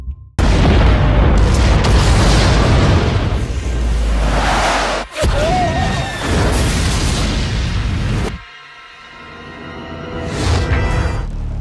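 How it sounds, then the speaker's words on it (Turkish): A volcanic caldera eruption at Santorini erupts in a massive, deep boom followed by rumbling roars and a second blast, very loud and close, fading into a lower rumble and a rising whoosh. "12 kilometre çapındaki kaldera o kadar şiddetli bir şekilde patladı ki"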